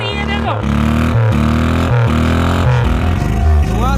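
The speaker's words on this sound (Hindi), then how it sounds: "बाइक की तरह आवाज आ रही है" A car engine started up and revved hard, with a buzzy, motorbike-like tone that rises and falls in steady loud surges throughout.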